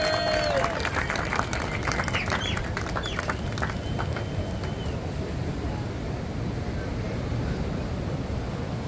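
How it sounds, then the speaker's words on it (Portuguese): A crowd applauds the women's longboard surf champion at an awards ceremony during a surf festival in Saquarema. The steady, dense clapping fills the whole stretch, with an announcer's voice briefly over it at the start. "Vamos aplaudir, galera, Evelyn Neves"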